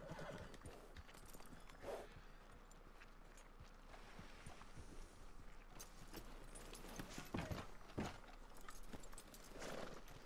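A horse in the video game Red Dead Redemption 2 clip-clops along at a walk and whinnies a few times, with hoofbeats and neighs rising over a low ambient bed of game sound.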